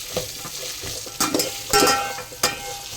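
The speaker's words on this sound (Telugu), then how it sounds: "ఆనియన్, పచ్చిమిర్చి, మనం పన్నీర్ ముక్కలు కూడా వేసేసుకున్నాం. ఆయిల్లో బాగా వేగాలి కాదు పన్నీరు." Onion, green chilli and paneer cubes frying in oil in a pan for vegetable biryani, a close bubbling sizzle broken by several sharp scrapes and knocks of a spatula stirring, with no voices.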